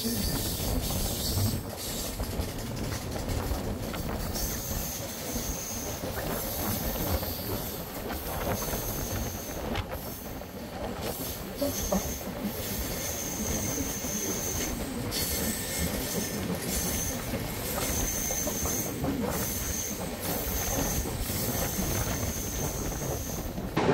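The 12219 Mumbai LTT–Secunderabad Duronto Express rumbles along, heard from inside a sleeper class coach, with a steady roar, rhythmic wheel clatter and occasional high squeals for a continuous stretch.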